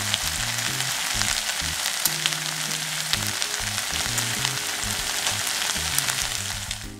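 Briquette-style bulgogi stir-fries in a pan at home with a steady, dense sizzle and crackle, close and loud, with faint music underneath.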